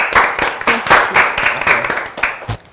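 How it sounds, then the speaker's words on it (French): A small group applauds in a steady burst of clapping, fairly close and lively, with a voice briefly heard near the end. "on applaudit Amalia encore une fois."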